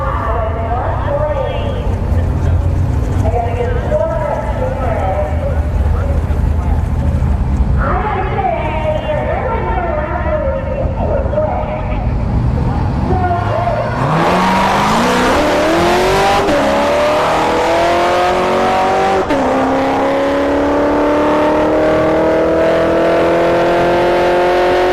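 A Tesla Plaid and a C7 Corvette race down a drag strip, with loud engine roar and rising acceleration whine building and sweeping upward as the cars launch. A commentator talks over the noise.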